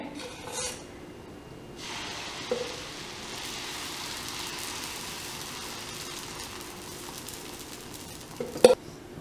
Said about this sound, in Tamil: இப்போ ஆனியன் தோசையும் ரெடி ஆயிடுச்சு அடுத்தது பொடி தோசை விட போகிறேன்